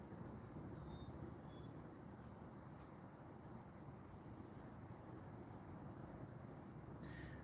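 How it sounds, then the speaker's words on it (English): Crickets chirping in the woods, a continuous high, shrill trill holding steady throughout over a soft outdoor hiss, with no talking. "I'm thinking you guys can probably hear the crickets"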